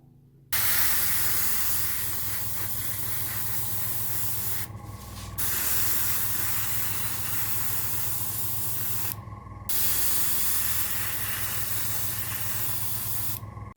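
An airbrush sprays a Vallejo white grey base coat mixed with aged white onto a Bandai Perfect Grade 1/72 Millennium Falcon model, giving a loud, close, steady hiss in three long bursts separated by short pauses.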